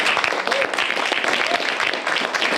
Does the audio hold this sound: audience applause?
yes